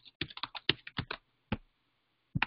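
Typing on a computer keyboard, with a quick run of close, crisp key clicks, a pause, a lone keystroke, then a short pair of taps at the end, all in an otherwise quiet room.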